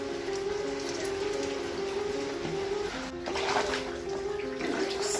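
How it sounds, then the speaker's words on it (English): Flood water pouring into a flooded house and kitchen, a steady rushing stream close by with a constant tonal hum running underneath and a brief surge of splashing midway. "the water keep coming in, like the water keep coming in everywhere"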